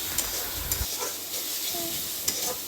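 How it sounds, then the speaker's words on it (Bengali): Onions frying in a pan with salt and ginger-garlic paste, a steady close sizzle with light scraping and stirring clicks throughout. "এবার আবার একটু সুন্দর করে ভেজে নেব এগুলোকে"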